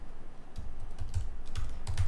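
Keys clack on a computer keyboard in quick, uneven bursts, close and clear with no talking, while a filename is typed and tab-completed.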